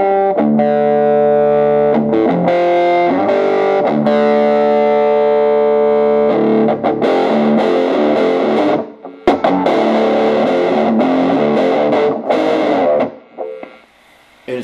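A 1980 Gibson Les Paul electric guitar with Tim Shaw pickups plays through a Marshall JMP1 amp, loud, sustained distorted notes and chords ringing out continuously, close and unaccompanied, fading near the end.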